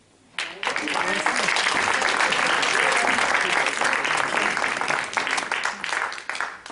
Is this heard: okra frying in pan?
no